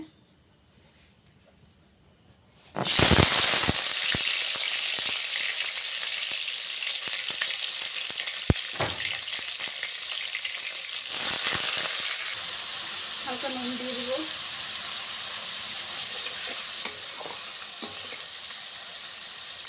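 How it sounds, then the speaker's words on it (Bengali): Paneer dropped into hot oil for a paneer-potol dish bursts into a loud, steady sizzle after a quiet start, crackling on with occasional spatters while someone speaks briefly over it. "পনিরটা ভেজে নিচ্ছি আমাদের তেল গরম হয়ে গেছে"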